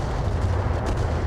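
A heavy, rumbling blast from the Battletech video game, dense and continuous with a booming low end that fills the whole moment without any voices.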